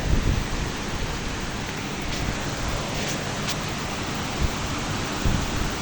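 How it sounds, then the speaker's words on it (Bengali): Heavy rain pours down over Dhaka among tall city buildings, a dense, steady roaring hiss that stays loud and even throughout, with no voices. "ওয়াও, কি পরিমাণ বৃষ্টি!"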